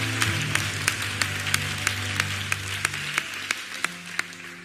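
A church congregation claps in a steady rhythmic beat, roughly two claps per second, sharp and even over a low hum of voices and organ-like tones, moderately close.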